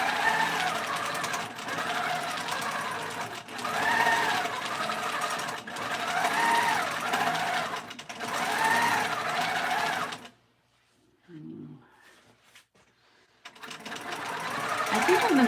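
Longarm quilting machine on a Cutie frame stitching a linen pillow top, a fast steady mechanical chatter with rhythmic swells for about ten seconds, a brief pause, then running again, with occasional speech nearby.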